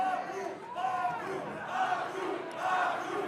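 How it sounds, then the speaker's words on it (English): An independent wrestling crowd chanting and cheering for Haku in rhythmic, rising and falling swells of massed voices, loud and sustained across the arena. "This crowd begging for Haku to get into this match."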